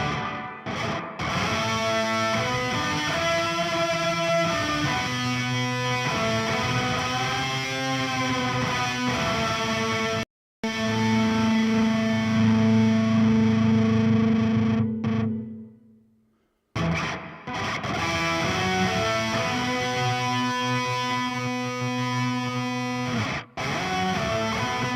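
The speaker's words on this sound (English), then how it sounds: "Pretty neat to have a nice big shimmer reverb." Guitar run through the OVERLOUD TH-U amp simulator with a big shimmer reverb, sustained chords and notes blooming into a bright, airy tail, with brief drops to silence and one fade out before playing resumes.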